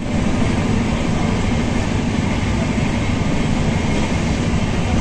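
Inside a moving Una Janshatabdi Express train, a loud, steady rumbling roar of the carriage running on the rails fills the space continuously.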